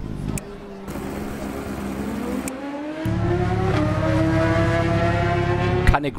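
A superbike engine from the racing game TT Isle of Man 2 drones steadily with a slowly rising pitch, fairly quiet and partly masked by someone speaking over it.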